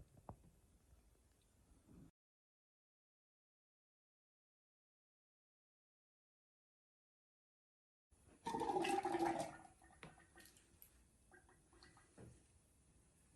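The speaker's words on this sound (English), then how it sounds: "You can hear the air coming out" Air gurgling and bubbling out of a Honda XR650R dirt bike radiator as coolant is poured in during bleeding, heard in two short stretches separated by silence, the louder burst near the middle, with faint dripping.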